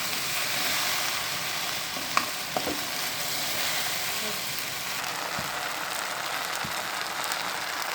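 Okra frying in oil in a pan for a Bengali bhaji, giving a steady, close, dense sizzle that holds throughout, with a couple of small sharp ticks from stirring and no talking.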